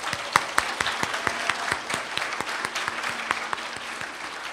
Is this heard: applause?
yes